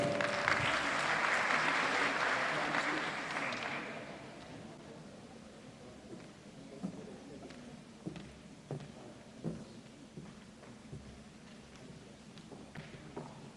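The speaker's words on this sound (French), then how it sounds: "nous invitons le représentant des parents d'élèves, monsieur Ahmed Tolba, sous vos applaudissements s'il vous plaît" Audience applause at a graduation ceremony, for a parents' representative called to the stage. Dense clapping fills the opening few seconds, then fades to scattered claps and light thuds from a quieter room.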